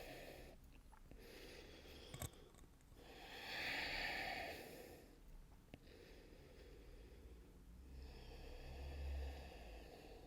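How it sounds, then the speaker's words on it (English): Slow nasal breathing during a yoga practice, a few long inhales and exhales drawn through the nose, swelling and fading in a soft hiss over quiet background, close and fairly faint with no talking. "Still breathing in and out through the nose"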